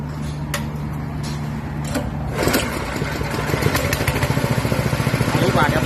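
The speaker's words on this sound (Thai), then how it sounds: "แล้วก็มาสตาร์ทเครื่องยนต์นะครับ" An engine cranks and catches, then runs with a rapid, throbbing rumble that grows louder as it revs, close by.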